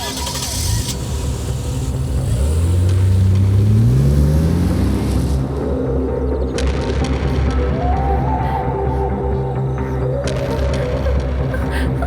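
A car engine starting and revving as the car drives off, loud and close, pitch rising through the gears, then fading as a second engine note climbs behind it.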